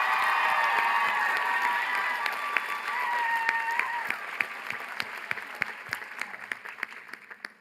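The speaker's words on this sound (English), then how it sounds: "Once again, a round of applause for Evie." A college commencement audience applauds a graduate, with a loud, dense wash of clapping and some cheering voices early on. The ovation thins over several seconds into scattered, sharper individual claps.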